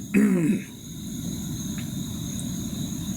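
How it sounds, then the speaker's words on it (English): A single sharp cough from a man, loud and close, followed by a low, steady background rumble. "That cough was for rhetorical effect."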